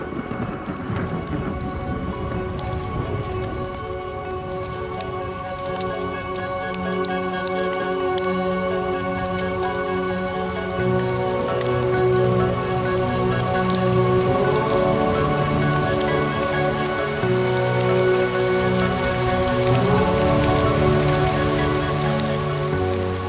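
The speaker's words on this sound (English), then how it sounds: "This is more than just rain, more than drinking water." Rain falls across the Serengeti plains, a steady hiss of drops on the ground, with sustained tonal music running over it that swells and grows louder about halfway through.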